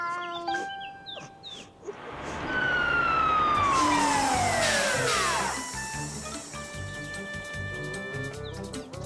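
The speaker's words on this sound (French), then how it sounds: "Caillou était tout excité de voir les pompiers arriver dans leur grand camion rouge." A fire truck siren in a children's cartoon wails and sweeps downward as it arrives, loud and prominent over light background sounds and a few chirps.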